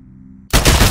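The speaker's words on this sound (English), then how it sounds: "Kill the pilot with your smart pistol." Smart pistol firing in Titanfall, a sudden loud burst of rapid, dense shots starting midway after a low game hum and continuing without pause to the end.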